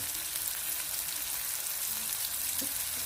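Tilapia fillet frying in a pan, giving a steady, close hiss and crackle of hot oil that holds even throughout, with a faint pop near the end and no voices.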